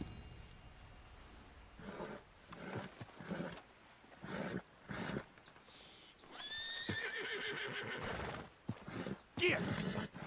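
Horses in the video game Red Dead Redemption 2 neigh and whinny with shrill rising calls, mixed with hoof clatter and scuffling over about ten seconds, while someone talks in between.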